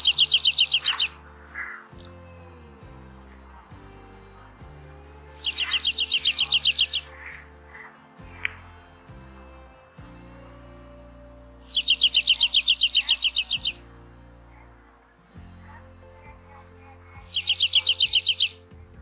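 A dark-eyed junco's bright, rapid trill repeats four times with pauses between, ringing out clearly over a low, steady background hum.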